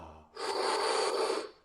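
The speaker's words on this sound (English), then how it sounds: "Full exhales." One long, full exhale during a morning breathing exercise, a close, breathy rush of air lasting over a second before fading, alone with no talking.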